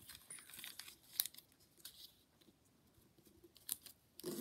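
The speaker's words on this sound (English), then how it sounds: "Now we are going to fold this edge to the center." Paper being folded and creased by hand for an origami pinwheel, with soft crinkles and sharp rustling bursts scattered through a quiet room, close and fairly faint.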